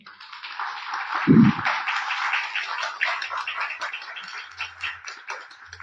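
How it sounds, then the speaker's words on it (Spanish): Audience applause greets a guest priest at a church service, with a steady wash of dense clapping that holds for about six seconds and never breaks, plus one low thump near the start. "Le damos un aplauso"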